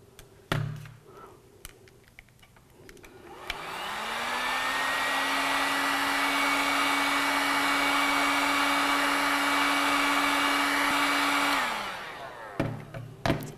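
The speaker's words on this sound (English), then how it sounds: "it may be necessary to warm it up with a hairdryer in order to bend it." A hair dryer switches on with a rising whine, runs as a loud steady whoosh for several seconds, then shuts off, with faint handling clicks around it.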